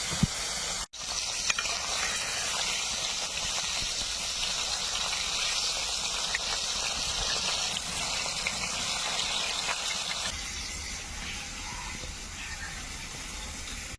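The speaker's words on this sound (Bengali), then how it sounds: "এবারে মাছগুলোকে ভেজে নেবো" Koi fish frying in hot oil, a steady sizzle close by with a sharp knock near the start, then the frying carries on to the end.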